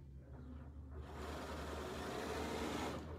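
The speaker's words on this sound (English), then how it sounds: "hopefully you guys can hear me while Barbara's sewing" A sewing machine stitches fabric, starting softly and then running as a steady, fast mechanical whir for a few seconds, fairly quiet and close, with no talking over it.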